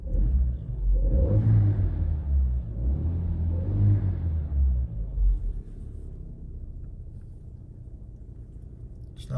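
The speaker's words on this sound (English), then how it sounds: "Starts and ticks over nicely." A Renault Megane RS 250 Cup engine starts close by, rumbling through two deep revs before it drops back to a steady, lower idle.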